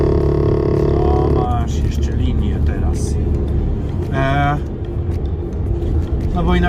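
Mercedes truck engine held at around 1500 rpm on a UK haulage run, giving a loud, steady low drone with strong harmonics that shifts partway through, with a voice heard over it.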